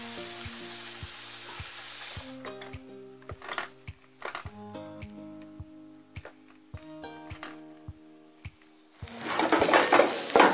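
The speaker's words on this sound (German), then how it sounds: "ein bisschen Öl in die Pfanne und die Zwiebeln mal ein bisschen anrösten" Oil sizzles steadily in a pan with frying onions, broken by scraping stir strokes and clinks of a utensil, then a louder burst of sizzling at the end.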